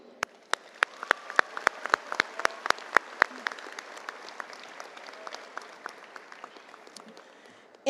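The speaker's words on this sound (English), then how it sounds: "Graduating seniors, this is an appropriate time for you to applaud for those who have provided so much of support to you." Graduating seniors clap at a high school graduation ceremony, sparse and scattered at first, sharp individual claps over a soft wash of applause from a large group, thinning out toward the end.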